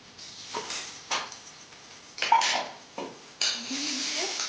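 A spoonful of ghee goes into a kadai for cooking, with a metal spoon clinking against the pan in several short, close taps spread over a few seconds, then a brief scrape.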